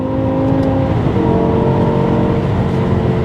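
A 500hp V10 BMW M5 engine runs steadily from inside the car, a loud smooth drone with layered tonal harmonics holding an even pitch throughout, no speech.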